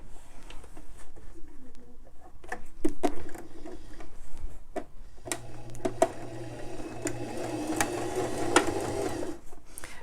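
A sewing machine runs steadily while top stitching along the very edge of a fabric face mask, a low even hum lasting several seconds after a few scattered clicks and taps.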